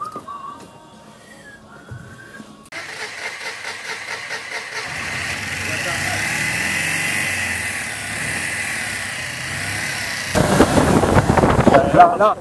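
A Citroën Méhari engine cranks after a quiet stretch of voices, catches and settles into a steady running drone, then revs louder and rougher near the end, with people talking nearby.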